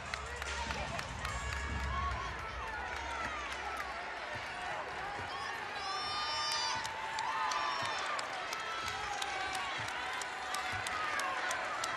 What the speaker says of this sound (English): The pro Wolfpack crowd trying to light a fire underneath NC State